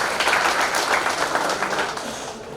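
An audience applauds for Paul Manyang at an end-of-year party in a Juba hotel, a dense burst of clapping from many hands that carries steadily and tapers slightly toward the end.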